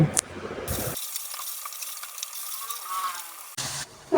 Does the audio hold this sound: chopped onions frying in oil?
yes